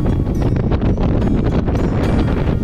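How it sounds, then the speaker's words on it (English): Loud wind buffeting the microphone in heavy, rumbling gusts on a coastline, continuous and close, with no other clear sounds. "It was quite windy around the coastline."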